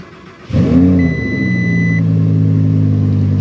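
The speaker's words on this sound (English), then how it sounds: "it sounds like one of the turbos is making a really weird noise" A car engine starting up, with one turbo making an odd noise: a sharp crank and catch, then a rising rev that settles into a steady idle drone, with a thin whine running above it for about a second, close and loud.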